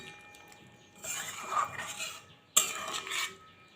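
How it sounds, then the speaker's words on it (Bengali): A spoon stirs jackfruit and potato curry with garam masala in a cooking pot, giving soft scraping and clinking in two short bursts separated by quiet, with a sharper knock at the start of the second. "ভালো করে মিশিয়ে নেব।"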